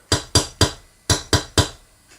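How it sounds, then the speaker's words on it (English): A small pin hammer gently tapping a nail to mark a spot for drilling: six light, sharp taps in two quick groups of three, close and clear with nothing else around them. "a little pin hammer, and I literally just put the nail exactly where I want the hole to go, and just gently, very gently, try and give it a little"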